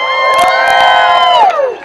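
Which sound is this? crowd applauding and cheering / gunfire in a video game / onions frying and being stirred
crowd applauding and cheering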